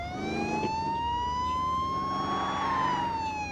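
A police car siren in the Car Simulator 2 driving game wails loudly and steadily, its pitch slowly climbing and then dipping, over a low engine drone, with no voices.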